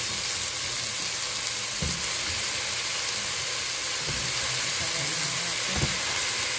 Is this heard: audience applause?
no